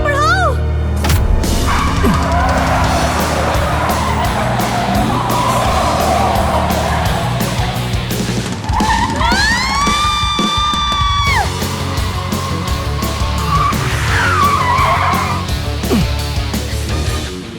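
Tyres screech as a car skids to a sudden stop in a near accident in an Indian film scene, a rising squeal cutting through loud, dense background noise, with shouting voices around it.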